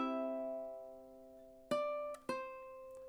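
A ukulele plays a measure of The Star Spangled Banner: a ringing note decays slowly, then two more plucked notes follow in succession, each clear and unaccompanied.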